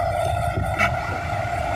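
A passenger train runs through heavy rain, heard from a window seat inside the carriage as a steady, moderately loud rumble with a constant mechanical hum and no speech.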